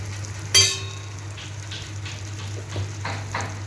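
Masala with chilli powder fries and is stirred in a pan, giving a steady soft sizzle with a sharp clatter near the start and a few scraping strokes after it, close by with no talking.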